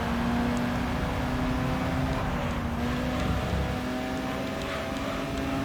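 Racing car engine from the video game Gran Turismo 3, a steady dense drone under continuous mechanical noise throughout, with a slight dip in loudness near the end and no voices.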